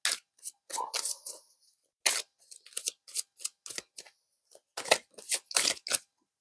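Tarot cards being shuffled and drawn make a run of crisp, papery riffles and flicks in quick irregular bursts, close up and with no talking.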